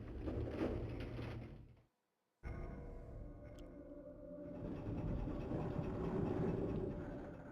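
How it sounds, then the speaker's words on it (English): A tram in Resident Evil 2 rumbles and clanks along its track as a steady mechanical drone, with a short silent cut, then the rolling noise resumes and swells. "Ride the tram."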